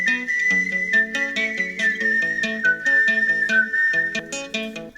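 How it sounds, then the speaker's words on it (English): A sustained whistled melody line in a pop song rides over the backing track's rhythmic instruments throughout, clear and prominent, with no talking. "I don't like the whistling."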